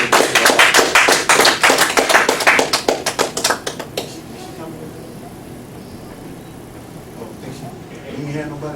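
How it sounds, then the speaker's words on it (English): Church congregation applause, a burst of rapid claps for about four seconds that quickly thins out and fades, followed by quiet room sound. "Let's give her one more round of applause."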